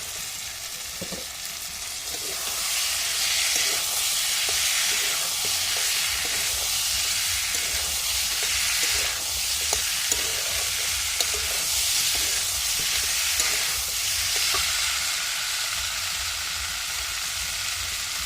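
Potatoes and peas fry in a spiced masala, a steady loud sizzle with a stirring spoon scraping the pan at intervals throughout.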